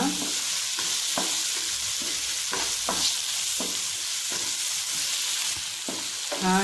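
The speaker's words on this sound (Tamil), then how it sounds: "இது வந்து ஒரு கேப்சிகம்மு, இதையும் கொஞ்சம் வதக்கிடுங்க." Capsicum sautéing in a pan for a sweet corn gravy, a steady close sizzle of frying with repeated scraping stirs at a regular pace and no talking.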